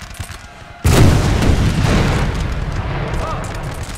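Canister shot artillery fires in Napoleon Total War 3, a single loud close boom that cuts in sharply and rolls into a long rumbling decay, with faint game noise before it.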